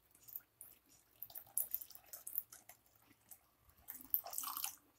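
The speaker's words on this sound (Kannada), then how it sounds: "ನಾನು ಇವಾಗ 1 ಲೋಟ ನೀರು ಹಾಕ್ಕೊತ ಇದ್ದೀನಿ" A glass of water is poured into a pot of tomato and lentil sambar, a soft, close splashing and trickling that comes in uneven bursts over about five seconds, quiet and with no voices.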